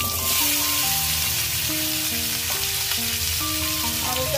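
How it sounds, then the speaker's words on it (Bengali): Potatoes fry hard in oil for a fish curry, a loud, even, crackling sizzle that runs without a break, with soft background music beneath. "আলুটাকে ভেজে নেব ভালো করে।"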